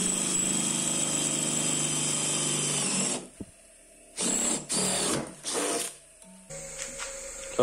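An electric drill with a freshly sharpened bit bores a hole, whining steadily for about three seconds, then starting and stopping in short bursts with quiet gaps between them.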